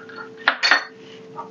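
Ice cubes dropped into a mixer jar of chopped muskmelon and sugar for a summer juice give two quick, close clinks about a quarter second apart, then settle into quiet.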